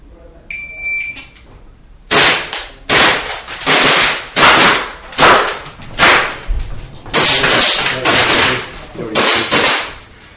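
At a practical pistol shooting competition in Burnley, a short electronic start beep is followed by rapid strings of loud, close handgun shots that come in quick bursts with brief pauses between them.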